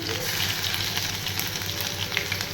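Finely chopped ginger frying in a pan with dal, a steady close hiss of sizzling oil that stays constant, with faint voice in the background.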